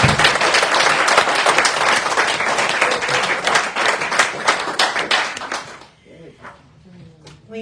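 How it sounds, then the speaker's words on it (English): An audience applauds a speaker at a talk, loud close clapping from many hands that fades away after about six seconds, leaving a few scattered sounds and a murmur. "Let's give her another applause."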